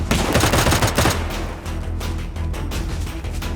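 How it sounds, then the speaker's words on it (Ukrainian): Rapid bursts of gunfire crackle loudly at first, then continue as a steadier, slightly quieter rattle of shots. "По мені, по мені стріляє."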